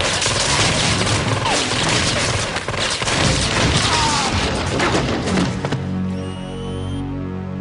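Loud gunfire erupts during a police shootout, a dense burst of shots and crashing impacts that fills the scene before abruptly dropping to a quieter tail.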